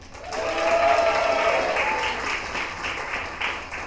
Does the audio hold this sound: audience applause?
yes